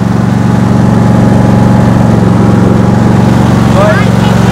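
An Ariens hydrostatic riding lawnmower engine runs at a steady, loud idle, a constant low droning hum with no change in rhythm throughout.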